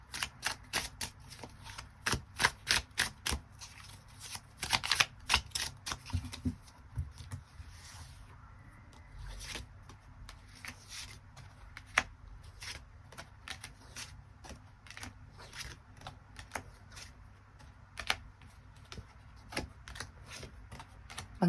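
Tarot cards are shuffled and drawn by hand, producing crisp riffling bursts and rapid flicking patter, busy at first and then sparser with single taps, close and fairly quiet, with no talking.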